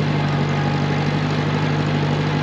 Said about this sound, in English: This is the biggest piece of equipment I've got, and it's a 10 horsepower tractor